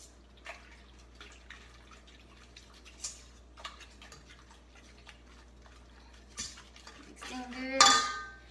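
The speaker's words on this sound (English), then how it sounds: "I'll just whisk that in." A whisk taps and scrapes rhythmically against a bowl as a block of white cheddar cheese is mixed into a quiche mixture, quiet clicks building to a louder metallic clatter near the end.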